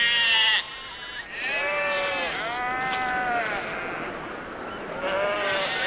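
Several sheep on a Scottish island bleat in overlapping, wavering calls at moderate distance, with a soft surf-like wash in the background.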